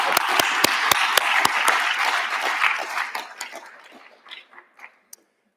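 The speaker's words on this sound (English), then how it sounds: "Could I get one more round of applause, though, for our track leads for them?" Closing-session audience at a RadicalxChange conference claps for the track leads, with a full burst of applause that thins out into a few scattered, separate claps.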